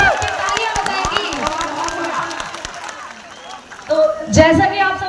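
An audience at a motivational biology meet-up in Mahoba bursts into applause, a brisk scatter of claps that swells into louder clapping and cheering near the end, with crowd chatter underneath.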